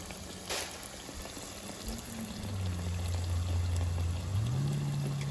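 Cha kwai dough deep-frying in hot oil, a soft continuous bubbling and crackle at low level, with a faint low hum rising underneath partway through.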